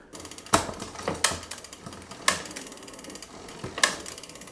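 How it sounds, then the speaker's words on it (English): Bicycle gears being re-indexed after cable adjustment: a mechanical drivetrain clicks and ratchets, with four sharp, loud clacks spaced irregularly over a softer continuous whirring tick, close up and without speech. "so that the gears can be re-indexed and so they can run nice and smoothly again"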